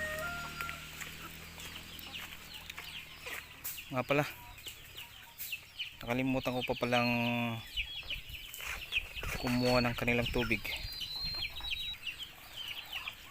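Farm chickens clucking in a backyard coop area, several short bursts of clucks and a longer drawn-out call nearby, while someone talks over them.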